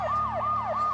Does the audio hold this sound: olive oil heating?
no